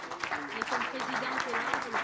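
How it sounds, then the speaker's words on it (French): An audience applauds at a sports club presentation ceremony, the clapping fairly soft and steady while a voice speaks over it on a public address. "Il s'agit de Kevin Mayer, qu'on va applaudir quand même"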